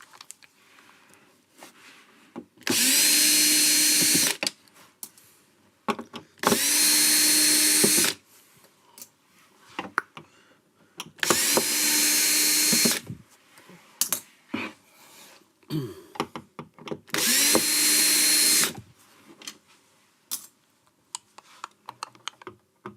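Power drill driving the last few screws, four loud sustained bursts of whirring, each roughly one to two seconds long, separated by quieter gaps with small handling knocks.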